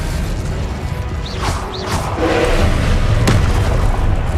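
Spell-casting effect in a Harry Potter video game running at ultra ray-traced 4K settings: a loud, booming magical blast with whooshing sweeps and a sharp crack near the end, over constant rumbling game ambience.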